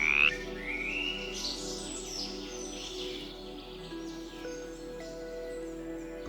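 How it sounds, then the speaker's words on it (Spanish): Orange frogs hidden on fern leaves under a dim rainforest canopy keep up a steady, close chorus of croaks and trills, with no voices. "En la penumbra bajo el dosel, ranas anaranjadas se esconden sobre hojas de helecho"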